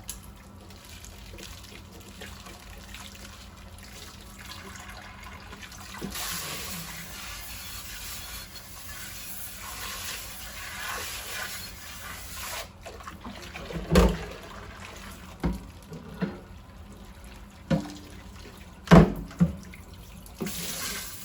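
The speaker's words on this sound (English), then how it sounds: "Rinse it off." Water runs from a kitchen sink tap as a dish is rinsed one-handed, a steady close stream with a few sharper splashes and clinks toward the end, no talking.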